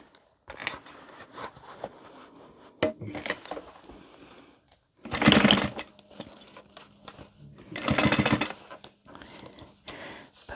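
A sewing machine closes the seam of an Alice Wristlet bag in short, uneven stitching bursts, two of them louder and longer, amid soft handling clatter and no speech.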